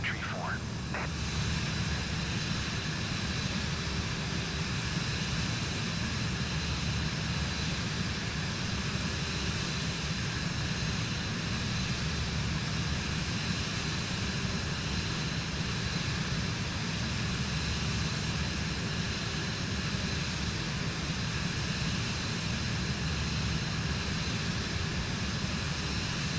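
A steady broadband roar of a jet airliner's engines spooling at takeoff in Microsoft Flight Simulator 2024, continuous and even throughout, with a faint voice briefly under it at the start.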